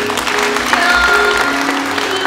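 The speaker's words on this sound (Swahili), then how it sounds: "Makofi kwake." A crowd applauds at a pre-wedding ceremony, a steady burst of close clapping sustained throughout with a faint tonal hum beneath.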